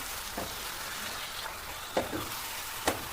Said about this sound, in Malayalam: നമുക്കിതിലേക്ക് നേരത്തെ മാരിനേറ്റ് ചെയ്ത് വെച്ചിരിക്കുന്ന ചിക്കനും ഇട്ട് കൊടുക്കാം. നന്നായി ഒന്ന് മിക്സ് ചെയ്യാം.